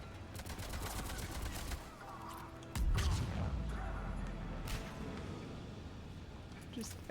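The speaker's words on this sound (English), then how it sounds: "Just nothing but explosions" Explosions and gunfire in the video game Mass Effect 3, a dense run of bursts and booms with a heavy blast near the middle, continuing at moderate level without voices.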